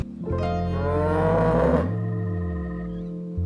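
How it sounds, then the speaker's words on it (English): A cow moos once, loud and close, a long drawn-out low call that swells and then tails off into a lower groan near the end. "Their ring cam caught Violet in their driveway at 1:30 in the morning, mooing"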